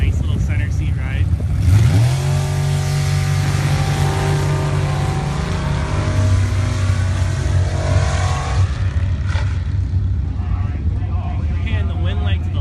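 A Jeep launches in a drag race at Avenal Sandbag, its engine roaring and revving hard as it pulls away, loud and close, then fading; a commentator talks over the run.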